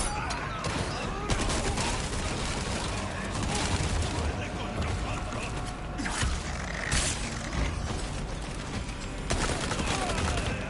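Rifle fire in Resident Evil 4 Remake: several sharp shots ring out at uneven intervals over a dense bed of creaking, mechanical game noise, fairly distant and moderate in level.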